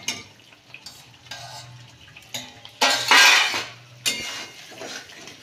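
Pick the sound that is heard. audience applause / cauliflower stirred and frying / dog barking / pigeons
cauliflower stirred and frying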